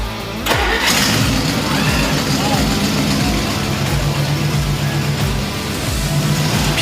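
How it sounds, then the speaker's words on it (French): A restored car engine cranks briefly and catches on the first turn, then settles into a steady, loud, close idle with a rhythmic low throb as people talk over it. "Puis ça part, ce moteur-là, du premier tour."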